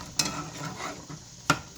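Flour stirred together in a bowl for homemade chicken pot pie, a soft scraping swish with two sharp clinks of utensil against the bowl, close and quiet.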